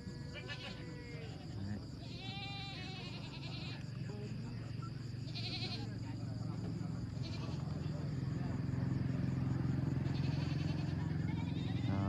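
Goats and young kids bleat at a large livestock market in northwest Vietnam, scattered calls rising over steady crowd noise and nearby chatter throughout.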